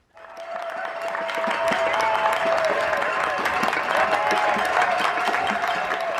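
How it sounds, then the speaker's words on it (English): Sustained applause from a crowd clapping for NHS health workers and carers across the UK, dense and steady throughout with a few faint cheers mixed in. "people are being urged to applaud the country's NHS health workers and carers in these unprecedented times"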